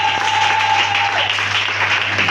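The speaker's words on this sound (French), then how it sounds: "acclamons encore Jésus pour ce moment solennel" A church congregation applauds Jesus during a bishop's consecration ceremony, steady clapping filling the space throughout, with a sustained tone held under it and a low hum beneath.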